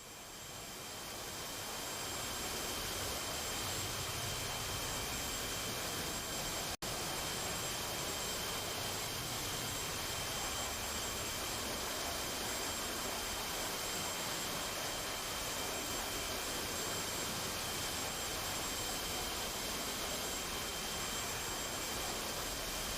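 A jet aircraft cruises on a single running engine in a flight simulator game, a loud, steady broadband roar and whine that rises in the first seconds and then holds unbroken, with no talk.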